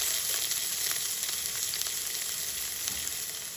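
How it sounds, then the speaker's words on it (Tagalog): Onion sautés in a hot pan, giving a steady, bright close-up sizzle with faint scattered crackles throughout, no voices over it. "Saute it."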